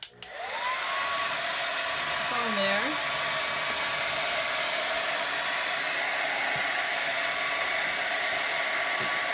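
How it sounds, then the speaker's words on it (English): A blow dryer switches on and runs with a loud, steady whooshing hum that continues without pause, with a few brief words spoken at the start. "I'm going to grab my blow dryer and dry it just a little bit."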